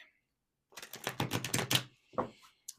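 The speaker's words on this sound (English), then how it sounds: "As I'm shuffling the tarot" Tarot cards shuffled by hand, a quick run of crisp riffling clicks lasting about a second, then a short flick and a faint final tap, close up in a quiet room.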